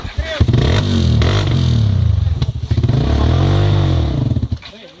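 A trail motorcycle engine revving and straining uphill on a dirt trail, loud and close with rising and falling throttle and clattering, while people shout over it.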